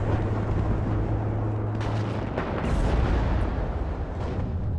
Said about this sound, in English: There's that MLRS at work.